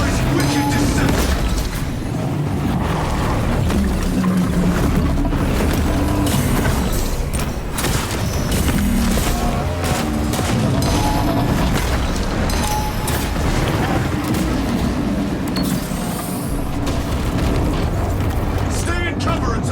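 A barrage of booming explosions and mechanical clatter fills a battle in the video game Space Marine 2, with dense overlapping blasts continuing loudly throughout without pause.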